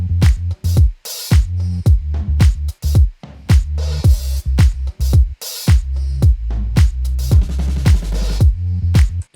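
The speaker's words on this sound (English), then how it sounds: "So if I was to tune that like way up" A bass line made from a vocal sample, pitched well up and layered with a full drum pattern: punchy kicks and snappy hits under a bouncing melodic bass, loud and rhythmic in an electronic remix groove, no voices talking.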